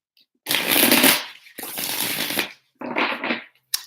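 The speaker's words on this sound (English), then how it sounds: "So let's shuffle again." Tarot cards being shuffled up close in three riffling bursts separated by short pauses, then a brief tap at the end.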